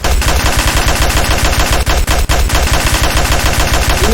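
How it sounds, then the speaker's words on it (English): A minigun in Garry's Mod fires a continuous, very loud roaring stream of rapid shots, close up, with only a couple of split-second breaks in the barrage. "Then we have the minigun."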